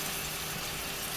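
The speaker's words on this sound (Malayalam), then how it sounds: "ഇതിലേക്ക് നമുക്ക് കുറച്ച് ചൂടുവെള്ളം ഒഴിച്ചിട്ട് ഈ മസാലയൊക്കെ ഒന്ന് വേവിച്ചെടുക്കാം" Hot water pours into sizzling masala in a cooking pan for palak paneer, a steady close gush and hiss lasting the whole brief moment, with no talk.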